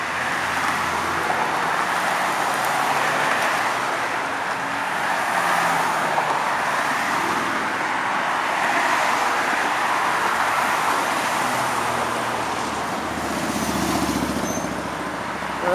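A heavy vehicle rumbles past with steady road noise, a continuous engine drone that stays fairly loud throughout without any talking.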